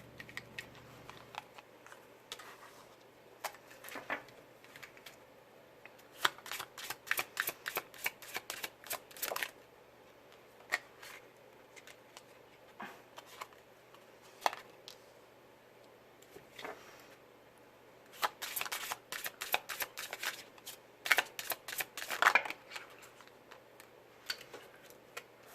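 Tarot cards being shuffled by hand, with repeated bursts of quick riffling flutters and soft taps between quieter pauses, close and clear.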